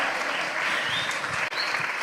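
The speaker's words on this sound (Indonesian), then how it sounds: "Kasih tepuk tangan yang meriah dong." University students in an audience in Surabaya give loud, continuous applause after a speech, with a brief dropout partway through before the clapping resumes.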